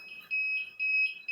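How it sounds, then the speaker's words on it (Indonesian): An electronic buzzer on an ESP32-based automatic parking barrier system gives two clear, steady high-pitched beeps and starts a third, fairly loud against a quiet room. "buzzer akan on."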